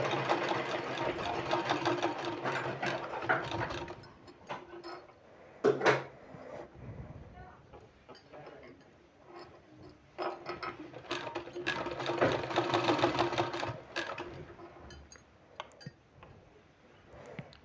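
A sewing machine stitches a folded sleeve in steady mechanical bursts, running loud and close for several seconds, pausing briefly, then resuming another long run.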